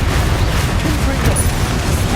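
Spell explosions going off during combat in Hogwarts Legacy, a dense, continuous barrage of booming blasts under steady background game noise, with talk mixed in throughout.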